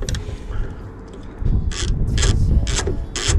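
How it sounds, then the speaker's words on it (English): Ratchet wrench loosening bolts on the tail section of a Triumph Speed Triple 1200 RS motorcycle, with several short bursts of rapid clicking close by, no talk. "undo all of these bolts"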